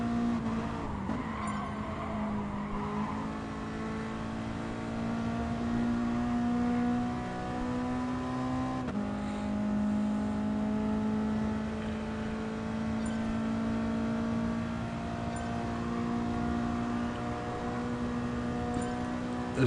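A Honda Civic race car in Gran Turismo Sport drones steadily for the whole stretch, its engine pitch rising and falling through gear changes and corners, loud and continuous with no voices.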